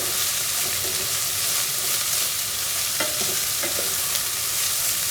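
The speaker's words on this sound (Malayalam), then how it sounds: "അരിഞ്ഞു വെച്ചിരിക്കുന്ന പച്ചമുളകും വെളുത്തുള്ളി കരിവേപ്പിലയും കൂടി ഇട്ടിട്ട് എന്നിട്ട് ഇതൊന്ന് ചെറുതായിട്ട് വഴറ്റണം" Shallots sauté in hot oil with chopped green chilli, garlic and curry leaves, a loud continuous sizzle with a couple of brief stirring scrapes.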